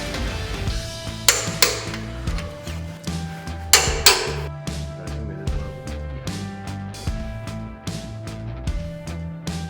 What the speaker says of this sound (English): hammer some more on all these concrete anchors